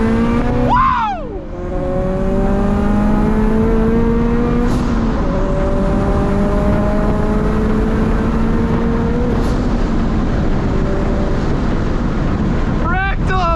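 A turbocharged Subaru BRZ accelerates hard in a race against a modded G35 coupe, its engine note climbing through gear after gear over heavy wind roar, loud and close with no talk.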